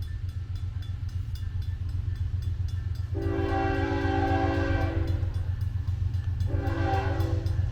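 A CN freight train rumbles past with a steady low roar of wheels and cars, while the locomotive horn sounds two long blasts, the second shorter, over the continuous rail noise.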